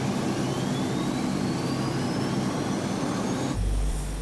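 A departing Lockheed Electra airliner's engines drone steadily and loud on the tarmac, a broad roar with a slowly rising whine, then the sound shifts abruptly near the end as the plane moves off.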